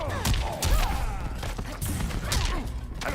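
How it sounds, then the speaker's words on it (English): Amplified gunshots special move firing in a fighting video game match, a dense burst of sharp blasts and crashes layered over game music and effects, loud throughout the short stretch. "after that whiffed amplified gunshots there"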